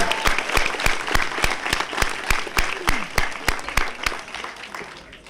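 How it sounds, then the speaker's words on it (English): Applause rings out at a graduation ceremony, a crowd clapping in steady sharp bursts after an honor for the valedictorian, the clapping holding loud and even throughout. "Please, another round of applause for our valedictorian, Trishana Williams."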